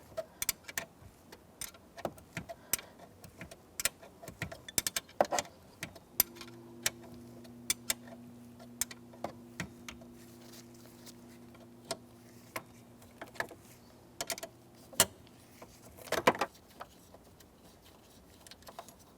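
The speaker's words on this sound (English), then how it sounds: "with a 10mm wrench, I'm going to remove this pivot bolt first" A 10mm wrench works a pivot bolt on a 2002-2005 Ford Explorer steering column, with rapid faint ratchet-like ticks and metallic clicks throughout, a low steady hum partway through, and no talking.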